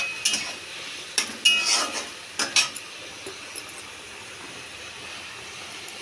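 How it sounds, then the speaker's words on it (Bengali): Ground fennel and ginger fry in a pan, with a handful of sharp scraping and clinking strokes of a utensil against the metal over a quiet, low sizzle that fades to near stillness. "বেটে রাখা মৌরি আর আদা ভালো করে ভেজে নেব।"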